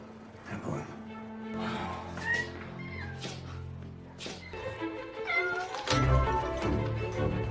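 Several domestic cats meowing, with repeated drawn-out, wavering cries that come close together and overlap at times, some rising to louder, strained wails.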